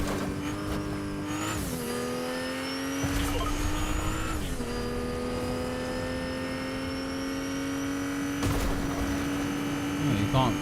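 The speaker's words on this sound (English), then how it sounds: "Why is this car so loud all of a sudden?" Loud video game car engine holding a steady high drone with shifting pitch and sharp revs, heavy and continuous throughout, with talk mixed in.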